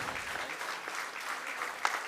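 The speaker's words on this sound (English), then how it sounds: "let us give a big round of applause to Madhav Bhai" Applause from an audience at a spiritual gathering, honoring Madhav Bhai, a steady wash of many hands clapping at moderate distance for about two seconds, with a sharper clap near the end.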